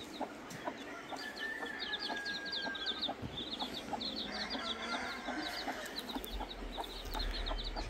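A broody hen with her chicks in grass on a farm, soft repeated clucking mixed with high chick peeping, steady and fairly faint against a busy outdoor background.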